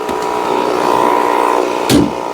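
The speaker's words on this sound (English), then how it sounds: "What a door shut sound." A Honda S800 door shuts with a single short, solid thud near the end, preceded by low steady background rumble.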